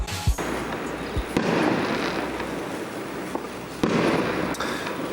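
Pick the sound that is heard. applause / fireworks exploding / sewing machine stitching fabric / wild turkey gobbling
fireworks exploding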